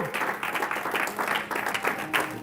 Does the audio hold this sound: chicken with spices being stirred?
no